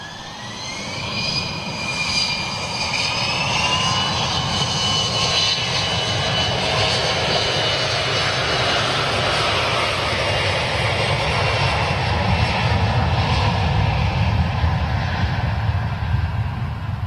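A jet airliner at cruising altitude gives a steady, continuous engine roar with a high-pitched whine layered on top. It holds even and sustained from a distance, with no talk.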